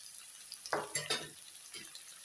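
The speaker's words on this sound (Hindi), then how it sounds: "अब इसे भी मैं फ्राई करूँगी थोड़ी देर के लिए।" Onion, green chili and tomato with a pinch of salt stirred in a pan for a fish curry, giving a few soft scrapes and a brief low sizzle over about two seconds.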